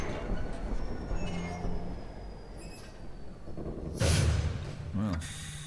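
A train ride in the video game Half-Life 2, with a steady low rumble of rolling railcars and wheels, mechanical clanks and a brief squeal near the end, under intermittent speech.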